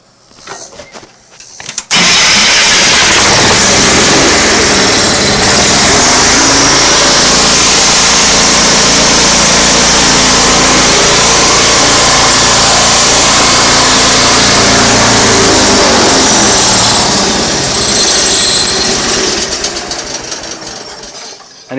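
An old lawn mower fitted with a homemade muffler and small tailpipe cranks, catches and then runs steadily for a long stretch, loud and close, with a faint dip in pitch toward the end.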